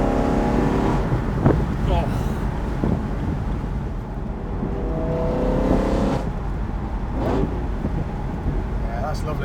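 A BMW E9x M3 with the S65 V8 and a carbon fibre intake drones and snarls at mid-range revs while driving, with wind noise rushing over it and people talking over the engine.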